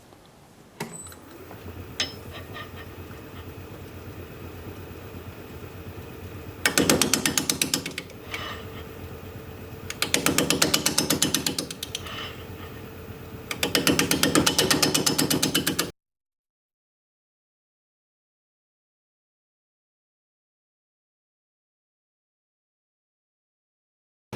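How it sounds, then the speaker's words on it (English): An unbalanced root spinning on a wood lathe at about 500 RPM and cut with a 5/8 inch bowl gouge: steady rhythmic mechanical thumping, with bursts of louder chattering cuts, then silence. "We're going to be using a 5/8 inch bowl gouge, mask and face shield on."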